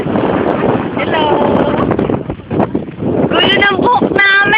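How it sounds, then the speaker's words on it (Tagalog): Wind buffeting a microphone out at sea by boat, a loud steady rumble under excited voices that talk and laugh throughout. "Mahangin kasi."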